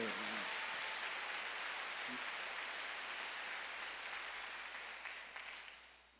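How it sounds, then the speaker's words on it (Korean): A church congregation at a Wednesday worship service claps in a dense, hiss-like wash that holds steady, then thins and fades toward the end. "박수 좀 세게 치는 거예요 정말."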